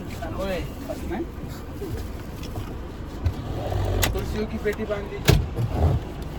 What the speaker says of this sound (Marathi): आता रुद्राच्या हातात गाडी आहे, मग तो लय फास्ट पळवणार.